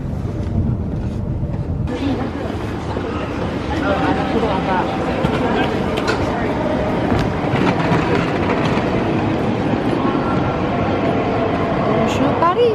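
Eurostar train running on rails into Paris, a low rumbling interior roar with rhythmic wheel clatter that grows slightly louder after the first few seconds, with faint background voices.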